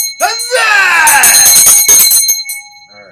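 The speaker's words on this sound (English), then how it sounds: "Alright, there we go. The dinner bell." A loud, bright dinner bell rings out with ringing metallic overtones that sustain and then fade over a few seconds, heard clearly and close.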